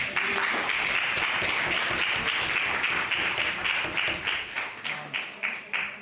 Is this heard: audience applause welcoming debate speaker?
yes